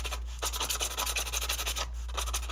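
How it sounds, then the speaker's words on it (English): A sanding pad scuffs the dust cap of an 18-inch Sundown Audio subwoofer, making quick, close, rhythmic back-and-forth rasping strokes with a brief pause partway through. "So I'm gonna sand this dust cap."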